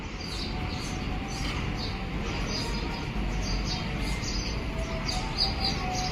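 Small birds chirp and tweet on a house wall where food and water are set out for them, many light calls scattered over a steady, noisy outdoor background, with no one talking.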